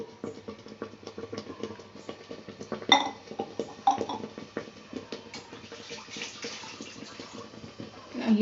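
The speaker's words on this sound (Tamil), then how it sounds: "குக்கரை தூக்கி அடுப்பில் வச்சு இந்த வச்சிருக்க வெள்ளத்தை இதில் ஊற்றணும்." Thick jaggery syrup is poured into a pressure cooker on the stove for sweet pongal, giving wet, gloopy splashes and sloshing with a few sharp clinks of a utensil against the metal pot. It is close and moderately loud, with no talk.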